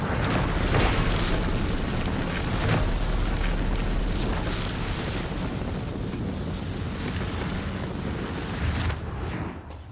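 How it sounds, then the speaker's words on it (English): An energy barrage spell erupts in Dragon Age: Inquisition with a sustained, loud rumbling roar of magical blasts that rolls on for several seconds before tapering off near the end. "Let's just hit this guy with an energy barrage, please, and call it a day."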